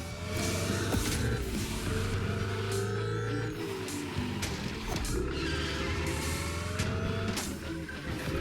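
Car in The Crew Motorfest video game racing through a stunt course, engine revving and shifting continuously with rising and falling pitch, loud and close, plus impact clatters and scattered game effects.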